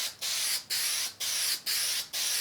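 Super 77 spray adhesive is sprayed onto a print for matting in five evenly spaced pulses, each a close, loud, sharp hiss with brief gaps between.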